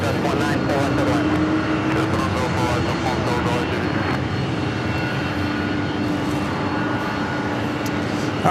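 An Airbus A321neo jet airliner at JFK airport, a loud sustained engine roar with a steady low drone throughout, under a voice talking.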